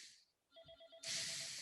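A phone ringtone goes off during a presentation: a short run of repeated electronic tones, moderately loud and close, cut off by a louder burst of broadband noise.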